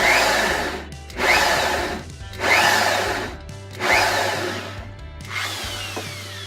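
A power drill bores a pilot hole in wood. It whirs up loudly in five short, repeated bursts, each easing off before the next, and it sounds close. No voices.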